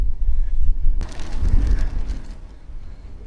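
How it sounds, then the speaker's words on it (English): Gusty wind over agricultural Somerset farmland with high hedgerows buffets a foam-covered camera microphone, a low rushing roar that swells in a sudden gust after a calmer start, then slowly eases. "Although the wind's a bit gusty"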